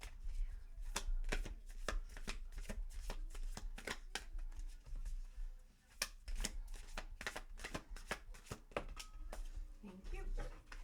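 Tarot cards from a Dark Crystal deck being shuffled and drawn by hand, with rapid repeated riffling and slapping bursts in an irregular rhythm, close and crisp, with quiet talk in places.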